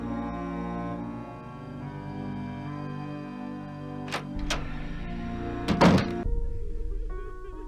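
A locked door in the Nancy Drew game Message in a Haunted Mansion rattles and thunks in a few short bursts, the last a quick cluster of knocks, heard over a steady low ambient drone.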